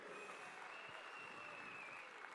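Faint, dense applause from a large audience at a QNET stage session in Malaysia, heard as a distant, steady wash of clapping with a faint tone running through it and no clear individual claps.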